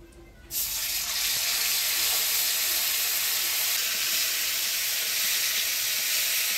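Ground coriander, cumin, ginger and chili paste hits hot oil, a loud sizzle bursting in after a brief quiet start and holding steady and close.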